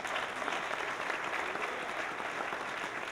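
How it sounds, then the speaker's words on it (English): Audience applause at a jazz concert, a steady dense wash of clapping that holds at an even level throughout with no voices over it. "Vice President Dan Elwell, you can applaud, please"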